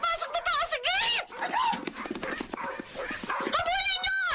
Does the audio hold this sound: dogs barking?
yes